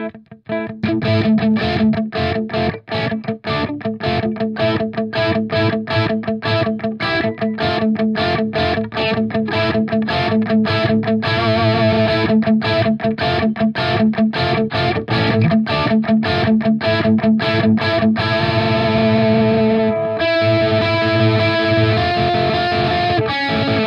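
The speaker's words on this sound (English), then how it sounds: "Let's move on to the crunchy tones." A crunchy, overdriven electric guitar plays rapid chugging strums and chords, loud and close, without any talking.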